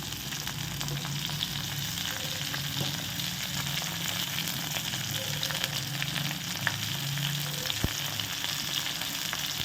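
Tomato chutney with mint leaves fries in a pan, giving a steady, close sizzle that runs unbroken throughout with no talking.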